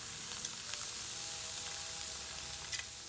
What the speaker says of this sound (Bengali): এখন এই তাওয়াতেই আমি শীতলগুলো দিয়ে দেব।